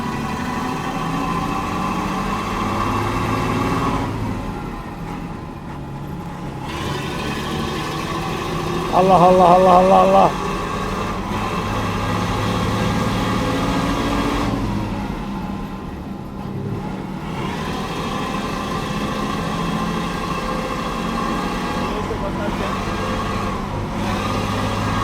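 An old 1983 Mercedes-Benz O302 bus engine idling with a steady, rough diesel rumble, while a voice chants repeatedly over it.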